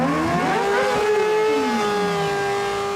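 Racing motorcycles at the Isle of Man TT roaring past the finish line, a loud sustained engine howl with pitch sweeping up and down as the machines pass close by, with no talking.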